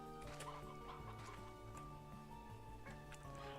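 A Stony hen in Slime Rancher 2 clucks in short repeated bursts over a looping melodic game music background, faint and fairly distant.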